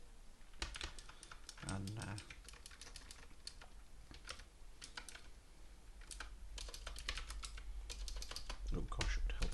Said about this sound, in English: oh gosh, it would help if I could type.